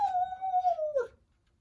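A human voice imitates a howl at the moon, a single drawn-out tone that holds steady then slides downward and breaks off, followed by quiet.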